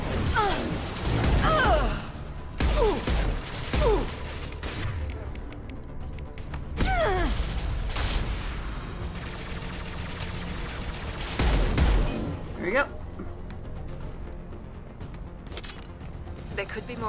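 Gunfire in Mass Effect 2 during a fight, with bursts of shots and sharp impacts in irregular clusters, loud and close, mixed with whooshing mechanical effects and a voice speaking between volleys.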